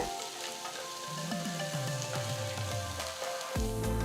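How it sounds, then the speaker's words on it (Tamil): Chopped onion, garlic cloves and red chillies sautéing in a pan for chutney give a steady, close sizzle with crackling spits throughout, over faint tonal background sound. "நறுக்கின ஒரு பெரிய வெங்காயம் நாலஞ்சு பல்லு பூண்டு எட்டு சிவப்பு மிளகாய் சேர்த்து வதக்குங்க"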